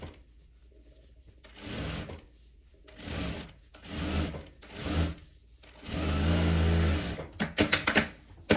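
Sewing machine stitching a fabric strip in several bursts of rapid mechanical whirring and clatter, each lasting a second or so, with pauses between them. The longest run comes late, followed by a few clicks and handling sounds.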